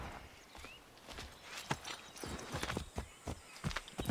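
Horse hooves clip-clopping at a quick sprinting pace in Assassin's Creed 3, an irregular run of close, fairly quiet thuds over soft ambient game background.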